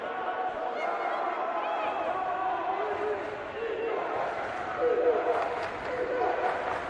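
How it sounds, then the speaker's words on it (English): A basketball crowd roars loudly in the closing seconds of a close college game between East Georgia State and South Georgia State, with cheering and yelling swelling while a commentator talks over it. "As the South crowd gets loud. As loud as they've been all night."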